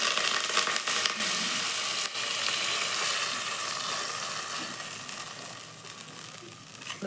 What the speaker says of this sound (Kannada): ಒಗ್ಗರಣೆ ಕೊಡ್ತಾರೆ